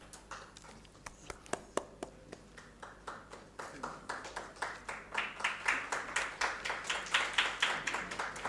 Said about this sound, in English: Please give a round of applause to our chairperson and keynote speakers.